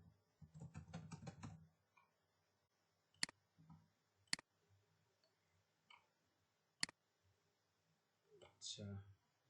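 Bursts of typing on a computer keyboard while entering a name for a lower-third title design, with quick clusters of clicks, a few sharp isolated key presses and pauses between them.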